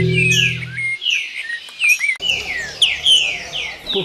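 A sabiá thrush sings close and clear, with bright, rising and falling whistled phrases repeated in quick succession. A low hum is heard at the start.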